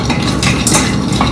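Dry fruits and nuts, pistachios among them, are fried and stirred in a pan, giving a close, steady scraping and rustling with faint clinks of the utensil and no talk.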